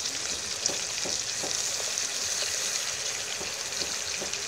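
Eggplant stir-frying in a hot pan with kaffir lime leaves, krachai and peppercorns, giving a steady, close sizzle broken by scraping stirs of a utensil, with no voices.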